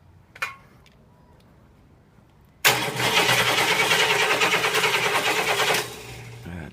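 A big 8.4-litre 500 cubic inch Cadillac V8, fed fuel, cranks and catches after a brief quiet, then runs loud and rough with a pulsing, uneven idle for a few seconds before dropping off.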